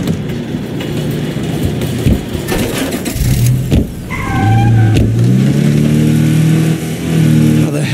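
Car engine from the video game State of Decay 2 roars and revs up as the vehicle pulls away, a steady loud drone that climbs in pitch over a faint musical bed.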